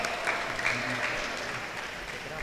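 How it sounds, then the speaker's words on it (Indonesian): Brief applause from students at a scientific oration in a polytechnic hall, a soft steady patter of clapping from a crowd, fairly distant and even throughout. "Kita boleh beri tepuk tangan buat Raka"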